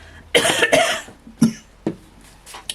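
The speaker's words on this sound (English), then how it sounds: "I'm just going to cough" A few sharp coughs, close by and loud, a cluster of two quick coughs followed by two or three lighter ones with short pauses between.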